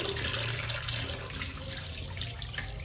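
A fish is rinsed under a steady stream of running tap water at a sink, splashing continuously and close up with no break.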